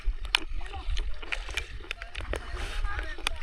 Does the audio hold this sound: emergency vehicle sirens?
no